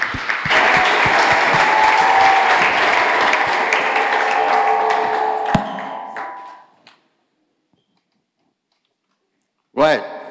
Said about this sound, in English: So please give a great round of applause for Sheen